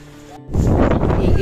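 Strong gusting wind in the aftermath of Typhoon Kristine, a sudden loud, steady broadband roar that rises after a brief quiet moment and holds close to the microphone.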